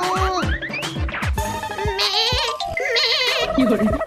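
A young goat kid bleats in quick, wavering cries, loud and close, repeated several times over a few seconds, mixed with other cartoonish sounds.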